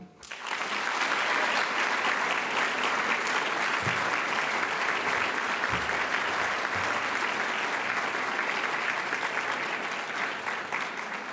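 Sustained audience applause at a school Christmas ceremony, dense and steady throughout, with a crowd clapping loudly and evenly from start to finish.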